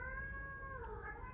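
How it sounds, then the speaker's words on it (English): A domestic cat meows indoors, one drawn-out tonal call that bends in pitch partway through, heard alone and fairly close against a quiet room. "Sorry if you can hear my cat in the background."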